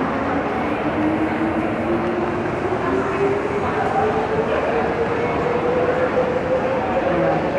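A loud, steady rumble of a metro train fills Jurong East MRT interchange station in Singapore, with a rising electric whine running through it and a voice speaking faintly underneath.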